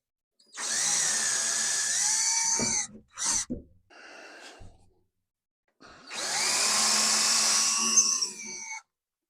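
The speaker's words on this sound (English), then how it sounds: "I've got a 1/4 inch drill bit here." A power drill with a 1/4 inch bit whirs loudly for about two seconds, then gives a few short stuttering bursts, falls quiet, and runs again in a long steady spin.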